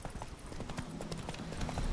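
Horse hooves clip-clopping in The Witcher 3 video game, a steady rapid rhythm of hoof beats at a trot, close and moderately loud, with a faint game background bed and no clear speech.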